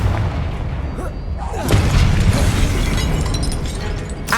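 A Confringo spell explosion in Hogwarts Legacy: a loud, close blast that flares up after a short lead-in and then settles into a roaring, crackling tail for several seconds.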